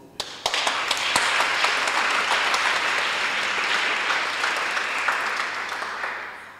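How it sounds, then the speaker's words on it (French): An audience at a literary prize ceremony breaks into sustained applause, with a few sharp individual claps standing out at the start before a steady, even roar of clapping. "applaudissements"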